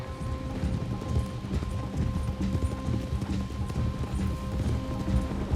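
Horses' hooves clip-clop steadily in the Red Dead Redemption 2 video game, a continuous close rhythm over a low bed of ambient game sound, with a faint whinny mixed in and no talk.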